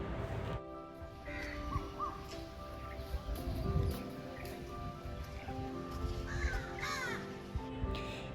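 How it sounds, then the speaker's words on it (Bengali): Birds call beside a lake, with several harsh, crow-like caws and shorter cries scattered over a low outdoor background. "পাখিদের কিচিরমিচির শব্দ"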